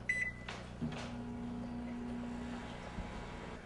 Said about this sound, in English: the microwave, which should already be preset to 1 minute, so I want you to hit start on that